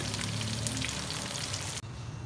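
Mutton pieces fry in rendered fat for a namkeen fry gosht, a dense, steady sizzle close up that cuts off abruptly near the end, leaving only a faint hiss.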